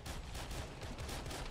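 Rapid, continuous SMG gunfire in the Arma 3 OPTRE Halo mod, a steady close stream of sharp shots layered over a dense battle din for the whole stretch.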